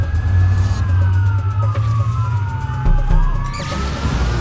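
A police car siren from the Watch Dogs video game wails with rising and falling sweeps over a heavy, constant engine rumble, loud and close the whole time.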